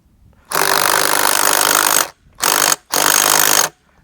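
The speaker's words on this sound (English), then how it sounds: "It's a pretty big socket. I got on my impact gun" Impact gun drives a 34 mm socket on a 1993 Evinrude 60 hp outboard motor, three loud close bursts of rattling hammering, a long one then two shorter, with silence between.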